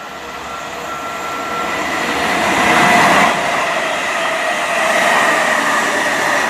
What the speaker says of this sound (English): Passing through we have a Class 350.